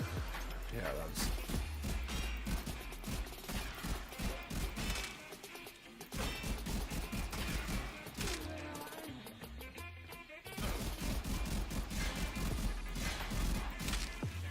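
Rapid bursts of Grakata automatic rifle fire in the Warframe video game, loud and dense across the clip with a brief lull midway, layered over game music and effects.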